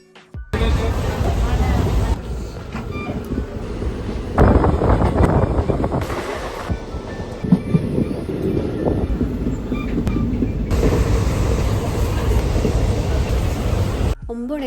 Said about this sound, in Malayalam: ഒരു ഫൈൻ സൺറൈസ് ഒക്കെ കണ്ട് നമ്മുടെ ട്രെയിൻ വന്നു